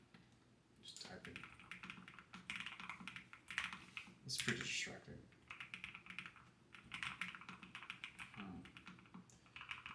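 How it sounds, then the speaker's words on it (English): Rapid, uneven keystrokes on a Nuphy Kick75 keyboard, clicking close up in bursts with short pauses, while a person talks briefly partway through. "Just typing."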